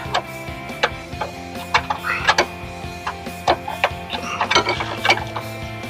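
Ratcheting clicks of a wrench working on the ABS module of a 2010 Hyundai Elantra Touring hatchback, irregular short mechanical ticks and clunks at close range, with faint background hum.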